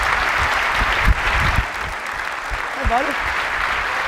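An audience at an Apple keynote applauds steadily throughout, a dense wash of clapping and crowd noise, while a voice briefly speaks over it.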